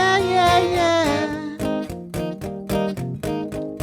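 An electric guitar plays the intro riff of a song, a sustained opening phrase giving way to a run of short, punchy chord stabs in a choppy rhythm, with no voices.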